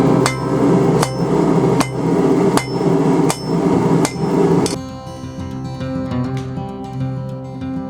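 Hammer blows forging a taper on a steel bar for a center punch, six loud, evenly spaced ringing strikes on an anvil, then a ringing metallic decay as the hammering stops.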